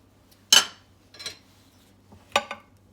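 A spoon or utensil knocks and scrapes in a bowl while dough is mixed with shortening and mustard, giving a few separate clinks and scrapes against a quiet background.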